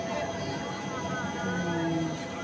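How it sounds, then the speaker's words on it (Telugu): The Swarna Jayanti Superfast Express approaches with a steady, loud rail rumble and drawn-out metallic squealing tones rising over it throughout. "వచ్చేస్తుంది స్వర్ణ జయంతి ఎక్స్ప్రెస్ అయితే"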